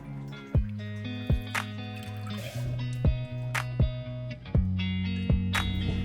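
Water drips in steady, sharp plops, roughly one each half second, near and clear over a low steady hum while a well water filter is changed at a household well.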